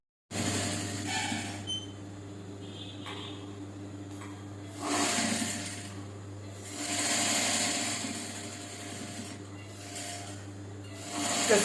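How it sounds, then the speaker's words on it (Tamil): A sewing machine stitching a scallop-design blouse runs with a steady, close mechanical whir that swells louder in stretches and eases back between them, with no talking over it. "இப்போ நான் இங்கேருந்து இதை தைச்சிட்டு வரேன் பாருங்கள் எப்படி."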